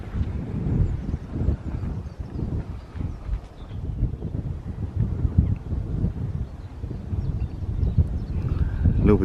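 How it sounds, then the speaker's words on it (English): Gusty wind buffets the microphone outdoors at a church in low, uneven rumbling bursts that rise and fall throughout, with nothing else clearly audible. "A little bit windy out today."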